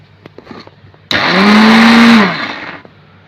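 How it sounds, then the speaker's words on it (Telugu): A kitchen mixer grinder whirs loudly for about a second while it grinds dried red chillies and garlic, then winds down, with some small handling clicks before it starts. "మిక్సీ వేస్తున్నానండి"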